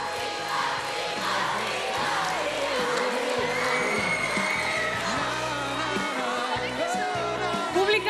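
A television talent show audience at a Macedonian Idol gala cheers loudly and continuously, a dense crowd roar with shouts and whoops that holds steady for the whole stretch.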